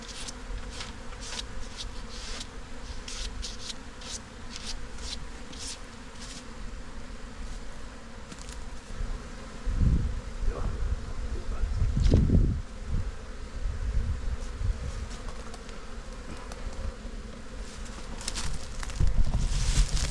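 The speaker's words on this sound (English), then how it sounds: "I mean, there's lots of bees, eh?" Many African bees buzz continuously nearby around a hive in a pool pump, a dense droning hum with individual insects swelling louder as they pass close, plus light rustling.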